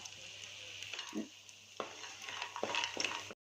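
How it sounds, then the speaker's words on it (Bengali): Masoor dal bori (dried lentil dumplings) dropped into hot oil give a steady close sizzle, broken by a few short scrapes and clatters of stirring in the pan. "তেলটা আমার বেশ গরম হয়ে গেছে এখন এই দিয়ে দেব বড়ি ডালের বড়ি"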